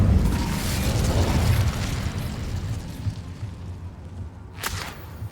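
A whooshing, booming blast of fire from the Incendio spell in Hogwarts Legacy, a loud rushing burst at the start that fades into a rumbling tail, with a sharp crackling flare near the end.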